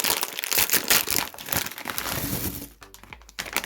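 A crinkly snack package is torn and opened by hand, giving loud, close crackling and crumpling bursts that come in irregular waves, easing off toward the end.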